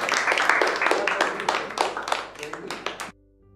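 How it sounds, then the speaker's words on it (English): A burst of clapping from a small group, quick uneven claps running for about three seconds before stopping abruptly, with voices mixed in. "Everyone clap for Ken."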